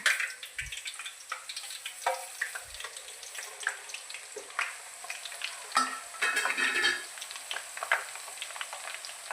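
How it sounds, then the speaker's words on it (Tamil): Nigella seeds and fenugreek sizzle in hot oil while a spoon stirs them through the pan, a steady crackling hiss with a few soft scrapes and taps nearby. "இப்போ வந்து கருஞ்சீரகம் வெந்தயம் மிக்ஸ் பண்ணிக்கலாம்"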